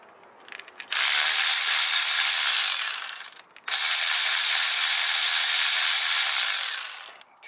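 A ratchet backs out the 8 mm injector hold-down bolt on a Cummins diesel engine, giving two long, loud, close-up bursts of rapid whirring clicks with a brief pause between them and no talking.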